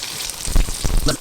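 Pork fat renders into lard in a pan over a lowered flame, giving a steady, close sizzle and crackle with small pops.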